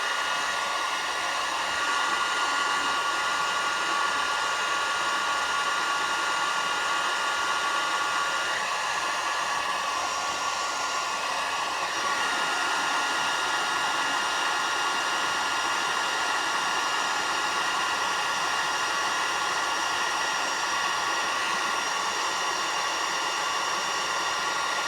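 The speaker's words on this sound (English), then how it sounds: "Okay, back to the hairdryer." A hairdryer blows steadily for the whole stretch, drying watercolor paint in a grade-school art lesson; a constant, loud, even whoosh with no talk.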